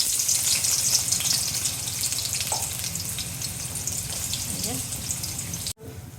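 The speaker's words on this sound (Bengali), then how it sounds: "তেল গরম হয়ে গেছে, এটার মধ্যে দিয়ে দিব পেঁয়াজ কুচি" Chopped onions frying in hot oil in a wok for a Bengali sea fish dish, a steady loud sizzle that holds throughout with some stirring, then a brief cutout near the end.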